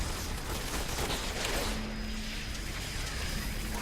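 Strafe attack in Diablo 3 unloads a dense, continuous spray of rapid shots, steady and loud throughout with a few louder bursts mixed in.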